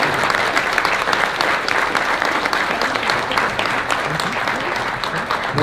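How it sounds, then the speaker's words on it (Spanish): Loud, dense applause from an audience honoring a university rector as guest of honor at a recognition ceremony for the Universidad Autónoma de Guerrero, continuous and even throughout with a faint murmur of crowd voices mixed in. "Yo quisiera que los chilposocios le diéramos un fuerte aplauso a nuestro invitado de honor el día de hoy"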